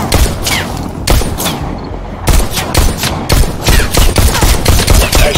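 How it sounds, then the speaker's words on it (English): Rapid bursts of gunfire from shooting targets in the VR game Robo Recall prequel, loud and close, with repeated sharp shots in quick succession throughout. "Now try to shoot the targets as they appear."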